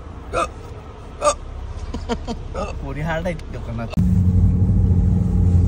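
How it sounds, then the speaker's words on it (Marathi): Two sharp hiccups break through a person's talking, then a car engine's steady rumble takes over. "पाणी घे, उचकी लागायला लागले भाऊ."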